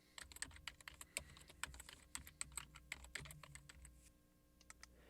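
Typing on a computer keyboard, a quick irregular run of close, crisp key clicks that slows and thins out toward the end, with no talk.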